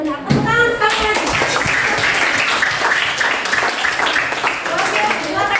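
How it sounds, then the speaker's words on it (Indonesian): A classroom of students claps hands, a brisk burst of applause that rises quickly and holds steady, fairly close and loud, with a teacher's voice heard briefly at the start. "Tepuk tangan sekali lagi."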